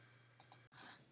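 Two quick, faint computer mouse clicks land close together over a quiet room hum, followed by a short silence and a soft rush of background noise.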